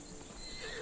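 A horse whinnies briefly in Assassin's Creed Odyssey, a short, faint neigh set against steady game ambience.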